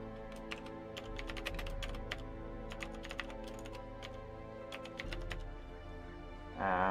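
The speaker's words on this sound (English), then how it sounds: "typing with pause again" Typing on a computer keyboard during a gaming session: bursts of quick, clattering keystrokes with short pauses between them, close and clear, ending in a louder shuffle.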